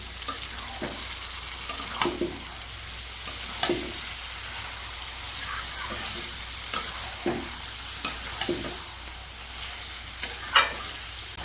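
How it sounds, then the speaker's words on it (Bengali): Bay leaf, salt and turmeric sauté in a pan with a constant close hiss of frying, broken by regular scraping strokes of a spatula about once a second, and no talking. "যদি তেজপাতা দিয়ে দেবো পরিমাণ মতন লবণ দিয়ে দেবো পরিমাণ মতন হলুদ দিয়ে দেবো এবার এটাকে ভালো করে আমি কষিয়ে নেবো"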